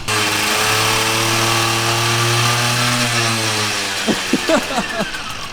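BMW E30 drift car engine with an aggressive cam, warming up at a steady loud idle before a few sharp blips of revving near the end.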